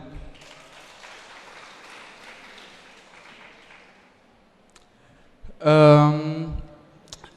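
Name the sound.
applause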